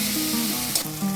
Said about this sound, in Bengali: পেঁয়াজ আদা রসুন সব আমার ভাজা হয়ে গেছে।